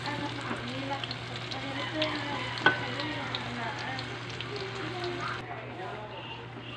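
Banana cue, bananas frying in oil for a snack, bubbling in a steady low sizzle with a constant hum beneath, one sharp knock midway and the frying continuing alone.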